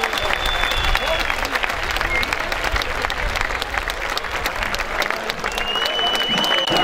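Sustained, loud crowd applause welcoming a singer onto the stage at a memorial concert evening, with a dense wash of clapping, cheering and a couple of whistles throughout.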